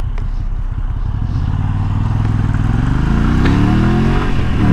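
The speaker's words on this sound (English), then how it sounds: "I do very much like how this bike develops its power and torque." A Moto Guzzi V85 TT motorcycle engine pulls hard under acceleration, a loud, close, throbbing rumble that rises steadily in pitch as the revs climb, with no talk over it.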